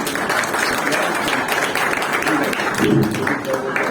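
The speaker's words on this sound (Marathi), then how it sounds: "आपल्या टाळ्यांचा आवाज जोरदार झाला पाहिजे" An audience at a school get-together applauds, dense continuous clapping of a crowd held at a steady level for a few seconds.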